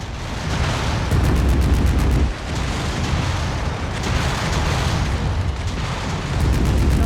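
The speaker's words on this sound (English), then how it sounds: "Explosion imminent." Continuous heavy rumbling booms and blasts in the video game MechWarrior 5: Mercenaries, loud and dense throughout, like a barrage of explosions with crackling debris layered over a deep low roar.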